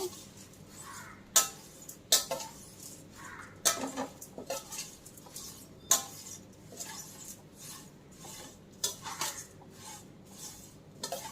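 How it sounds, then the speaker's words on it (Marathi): Thin poha is turned in a hot kadhai with a metal spoon, making repeated close scrapes and bright metallic clinks in an irregular rhythm for several seconds, with no voices. "आपण हे पोहे हलवायचे आहेत, कारण जर पातळ बुडाची कढई असेल तर ते करपतील।"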